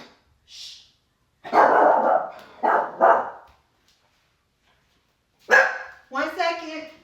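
A dog barks several times nearby in a home, sharp bursts in two clusters with a short gap, ending in a higher yipping bark, with little else around.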